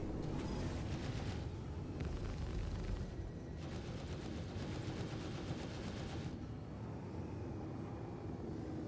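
Spaceship guns in Star Citizen fire in sustained rattling volleys during a back-strafing dogfight, loud and dense for several seconds before easing off under a constant engine rumble.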